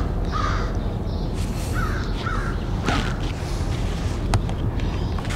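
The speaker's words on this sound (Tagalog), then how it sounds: "Naririnig na natin yung mga boses ng mga uwak." Several crows caw at intervals, harsh and fairly close, over a steady background hiss of outdoor noise.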